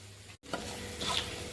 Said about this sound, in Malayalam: ഇതുപോലെ നല്ല ഗോൾഡൻ ബ്രൗൺ കളറിൽ നമുക്ക് നന്നായിട്ടൊന്ന് വഴറ്റിയെടുക്കണം